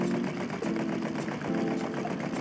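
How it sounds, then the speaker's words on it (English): A Lego solenoid engine runs and powers a mechanical Lego crane, a loud close mechanical chatter with a fast steady clicking rhythm and a buzzing hum underneath, with no speech. "A working mechanical Lego crane, powered by the solenoid engine."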